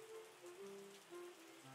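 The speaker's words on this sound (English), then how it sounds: "A little bit of rain." Soft, steady rain hisses over a vineyard in the Wine Making Tycoon Simulator game, a faint wash of drops beneath sustained tonal background music.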